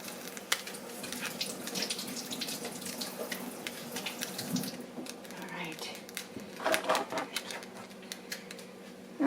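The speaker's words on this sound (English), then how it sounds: "let's wash this onion" An onion is washed under a running kitchen tap, a continuous stream of water spattering into the sink with irregular splashes and rubbing noises, growing choppier near the end.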